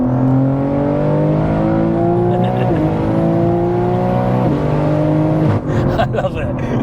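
A 1000+ BHP single-turbo all-wheel-drive BMW G80 M3 roars close and loud, its engine note stepping down through several downshifts before ending in sharp crackles and pops.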